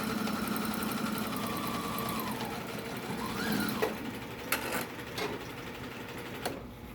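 Sewing machine stitching a fabric mask: a continuous mechanical whirring hum at moderate distance that shifts in pitch as it slows, followed by a few sharp clicks and taps near the end.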